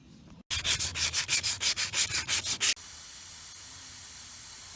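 A Volvo DP-C1 outdrive being hand-sanded with Rhino Wet Redline sandpaper, a close run of about a dozen fast, even rasping strokes that stop abruptly, leaving a faint steady hiss.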